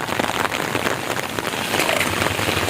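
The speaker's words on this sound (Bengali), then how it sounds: "দর্শক বৃষ্টি হচ্ছে খুব" Heavy rain pours steadily at Haripur bridge in Sylhet, a dense continuous hiss of drops drumming on surfaces close by, with no voices.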